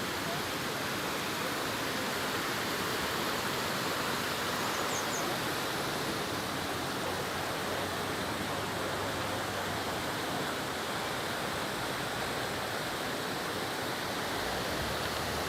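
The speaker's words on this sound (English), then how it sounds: "Yes, there is a river." A river flows beside the road near Geghard monastery in Armenia, a steady, even wash of rushing water that holds at moderate loudness without pause or change.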